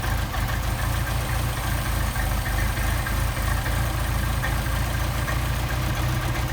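Car engine fitted with Solex carburetors idling steadily with a low, even, throbbing rumble up close, holding a constant loud drone throughout without talk.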